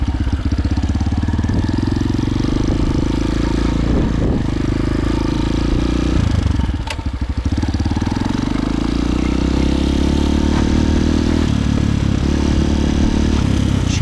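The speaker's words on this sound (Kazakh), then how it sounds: "Мотоцикл мощный." A powerful enduro motorcycle engine runs steadily and loudly throughout, a constant low mechanical rumble with a brief dip and swell near the middle, heard outdoors on a hot day on the way to a fishing trip.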